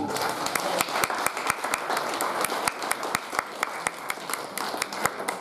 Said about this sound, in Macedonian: Благодарам и на топлиот аплауз.